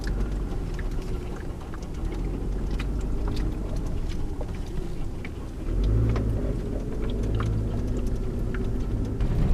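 A car drives along a desert dirt road, its engine a steady low rumble with tyres crunching over gravel and sand, swelling louder partway through as the vehicle draws near.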